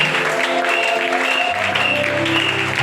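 A church congregation applauding during a Sunday worship and thanksgiving service: dense, steady clapping from a large crowd filling the room, loud and continuous, with a held musical tone sounding underneath.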